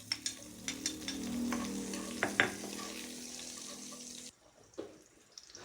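Ginger and garlic fry in hot oil, a moderate sizzle with scattered pops and light clinks of a utensil that cuts off abruptly near the end, leaving faint background sounds and no speech.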